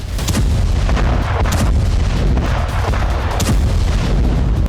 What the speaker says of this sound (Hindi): इजरायली एयरफोर्स जबरदस्त बमबारी कर रही है